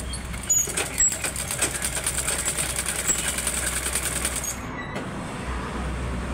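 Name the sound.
sewing machine stitching cloth neckline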